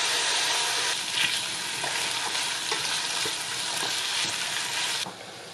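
Steady loud sizzle of stir-frying in a pan over medium-low heat while making chicken glass noodle soup, with occasional clicks of stirring running through the continuous hiss.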